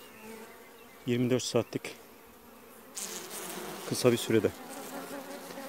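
Honeybees hum in a steady buzz at an opened hive during inspection of a weak colony with capped brood, close and continuous, while someone speaks over it in two stretches.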